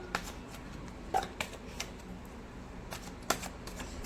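Tarot cards being shuffled by hand, heard as soft, close riffling and papery slaps with a few sharper clicks, sparse and irregular over a quiet background without speech.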